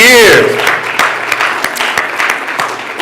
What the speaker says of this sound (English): Give them a round of applause for 50 years.